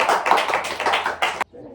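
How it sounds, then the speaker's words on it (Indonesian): Schoolchildren in a classroom clap together after a lesson, a dense burst of claps lasting over a second before stopping abruptly, leaving faint room noise. "Berikan tepuk tangan."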